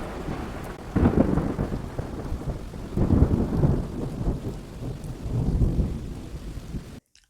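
Rolling thunder in a thunderstorm with steady rain, heavy low rumbles swelling in several waves over the downpour before cutting off abruptly.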